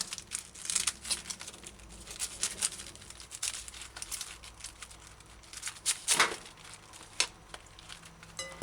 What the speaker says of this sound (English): remove dying leaves and then cut off stem